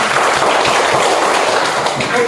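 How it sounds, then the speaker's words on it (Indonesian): Classroom applause from students, a dense steady patter of many hands clapping at close range for a couple of seconds, with faint voices mixed in. "Iya, beri aplaus."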